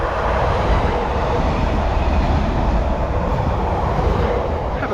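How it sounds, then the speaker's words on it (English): A local train passes nearby on a railway line at Wymondham, Norfolk, a loud steady rumble and roar of wheels with faint clatter that holds throughout. "it's a local train"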